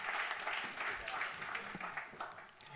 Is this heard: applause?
yes